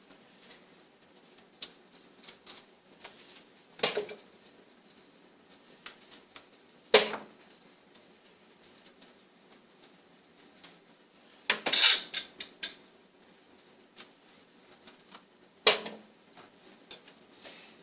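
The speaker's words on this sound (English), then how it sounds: "you're going to get the knife and you're going to just cut the stems off the top of the jalapeno like that" A knife cuts the stems off the tops of jalapeno peppers on a board: four sharp, separate chops spaced a few seconds apart, close and crisp, over a quiet room with a faint steady hum.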